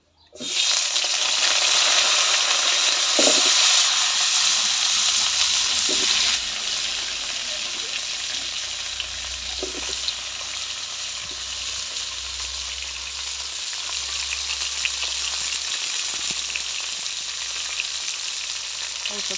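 Mixed vegetables—cabbage, potato, eggplant and cauliflower—frying together in oil in a wok-style pan, a steady loud sizzle with faint stirring clicks, softening slightly partway through and continuing on its own.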